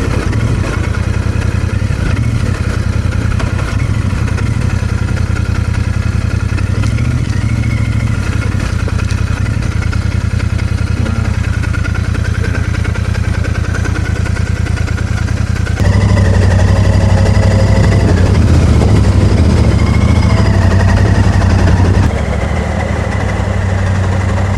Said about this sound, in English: you can hear the valve tappet noise on the top of the engine